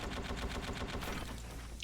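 A vehicle-mounted machine gun in the Roblox game War Tycoon fires a rapid, steady burst of evenly spaced shots, loud and close, tapering off near the end.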